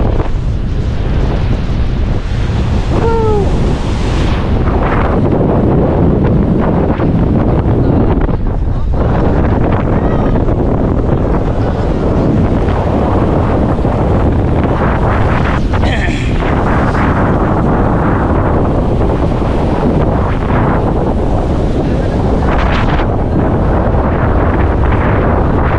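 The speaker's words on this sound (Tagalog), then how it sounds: "Grabe, lakas ang hangin." Strong wind gusting hard near a river outdoors, a loud continuous roar buffeting the microphone throughout, with voices talking at times over it.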